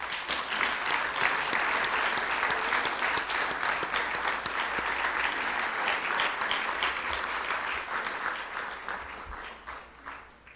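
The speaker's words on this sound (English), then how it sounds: "One last round of applause for them" An audience at a town of Miami Lakes community gathering claps steadily for about ten seconds, a full, sustained patter of many hands with scattered sharper claps, tapering slightly near the end.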